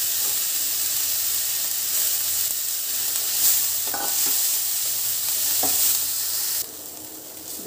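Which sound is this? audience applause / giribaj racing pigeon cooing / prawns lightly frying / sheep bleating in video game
prawns lightly frying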